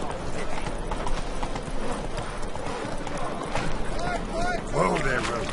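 Geralt's horse Roach, from The Witcher 3, clip-clops steadily along under a dense wash of ambient game sound, the hoofbeats continuous and mid-distance, with faint voices and a short whinny-like sound near the end.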